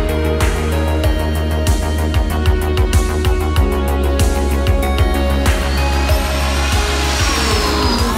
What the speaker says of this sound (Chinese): 有这种声音，俯冲的声音